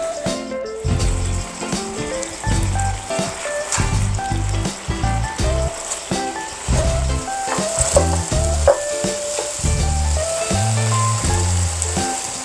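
Pan kebab meat sizzling steadily in hot oil in a frying pan, a continuous close frying hiss running the whole time beneath background music.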